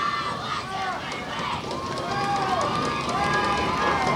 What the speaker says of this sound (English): And crowd banging, they're ready.